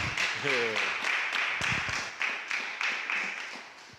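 Audience round of applause at a community talk event, steady scattered clapping throughout with a voice speaking over the start.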